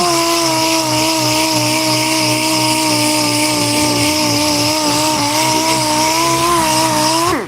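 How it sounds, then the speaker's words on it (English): A pneumatic air sander works steadily across a wooden table top, a loud continuous whine with a buzzing drone underneath that holds unbroken for several seconds before cutting off at the end. "The only thing about air sanders, they do use a lot of air."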